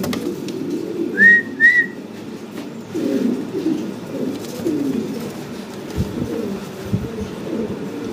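A pair of big black Mundi fancy pigeons coo softly and repeatedly nearby, in low murmuring phrases. Two brief high whistles sound early on over faint background noise.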